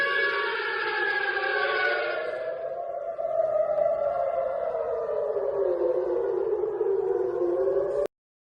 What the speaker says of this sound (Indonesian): membunyikan sirine peringatan di 139 lokasi berbeda di seluruh Israel